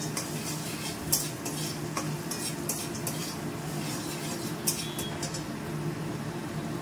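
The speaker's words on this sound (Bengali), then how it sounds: "এবার চাউমিনটা মিক্স করে নিচ্ছি।" Chow mein with boiled potatoes and peanuts is stirred in a pan, a soft low sizzle under intermittent scraping and clinking of a utensil against metal, fairly quiet.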